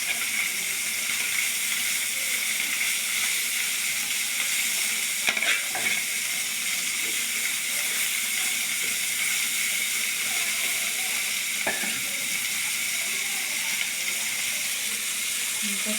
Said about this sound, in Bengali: মাছগুলো এখন ভেজে নিচ্ছি